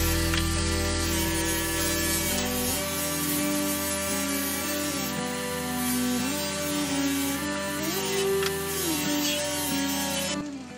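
Bench grinder running a flexible polishing disc against metal, giving a steady loud motor whine with layered tonal hum and a grinding hiss that holds for the whole stretch with no talking.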